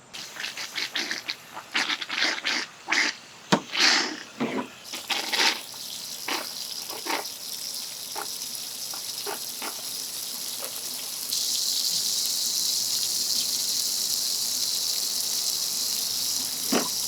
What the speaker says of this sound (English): First we gotta fill the pipe full of water,